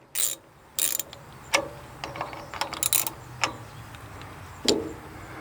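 A ratchet wrench snugs up the nuts holding the bar on a Dyna Products firewood processor, giving close, crisp clicking in short irregular bursts with pauses between strokes.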